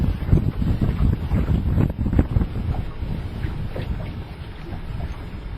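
Strong coastal wind near Prince Rupert, British Columbia, buffets the microphone in a continuous loud rumble, gusting up and down, with water lapping faintly beneath by a small boat harbour.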